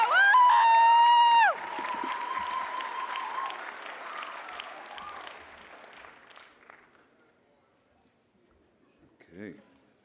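Audience applause fills a university PhD/EdD hooding ceremony for dissertation of distinction honorees, dense and steady at first with cheering and whoops, then thinning into scattered claps and trailing off to near silence, with a brief burst of sound near the end.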